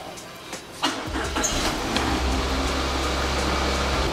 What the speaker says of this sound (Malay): anda perlu start enjin kereta anda